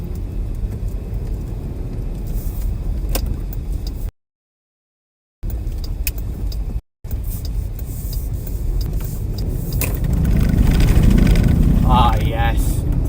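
A car drives down a road during tornado chasing in Illinois, with constant road and engine rumble inside the cabin and two brief dropouts, then a louder swelling roar near the end as a voice talks over it.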